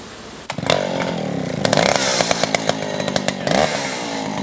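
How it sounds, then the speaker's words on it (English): An old chainsaw roars close by, its engine revving up and down in bursts, loud and rough with a rattling idle between revs. "This is a chainsaw, yeah."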